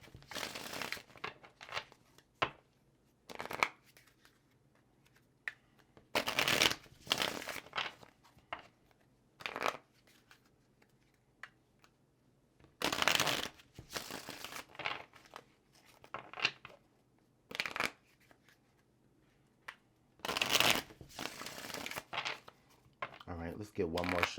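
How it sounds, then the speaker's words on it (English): A deck of tarot cards is shuffled in quiet, intermittent bursts of riffling and sliding, with short crisp clusters separated by near-silent pauses and a soft background hum. "let's get one more shuffle for Taurus"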